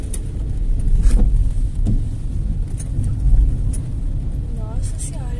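A car accelerates and shifts gear during a driving lesson in a city centre on a rainy day, producing a low engine rumble that swells twice under ongoing conversation inside the car.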